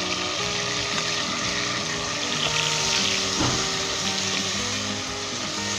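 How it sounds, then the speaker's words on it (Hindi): Goat mutton frying with garlic and onion in a pan over high heat, a steady loud sizzle running throughout with a faint tonal hum beneath it. "इसे तेज आंच के ऊपर मैं फ्राई कर रहा हूँ।"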